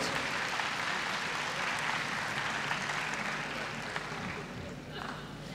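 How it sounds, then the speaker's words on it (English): An audience at a university convocation applauds teachers, a steady dense wash of clapping from a large crowd that fades slightly at the end. "please give a huge round of applause to our phenomenal teachers"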